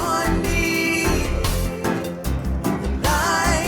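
Dense music from a track plays continuously and loud, with a strong low-end beat and layered melodic parts.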